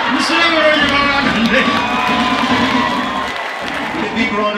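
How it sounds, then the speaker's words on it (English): A comedy store audience at an Easter show bursts into sustained applause with cheering and whoops, loud and continuous, tapering slightly toward the end. "A big round of applause."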